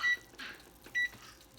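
A kitchen timer gives two short, clear electronic beeps as it is set for twenty minutes, quiet and close, separated by soft handling clicks in a home kitchen while watermelon jam cooks.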